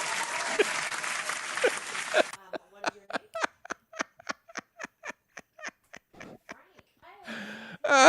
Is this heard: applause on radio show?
yes